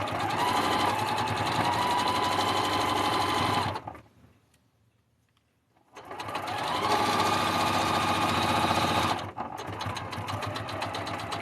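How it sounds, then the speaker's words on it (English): A sewing machine stitches along a seam line in a loud, steady whir. It stops for about two seconds, then runs again at full speed. "I'm just going to sew right along the seam line here."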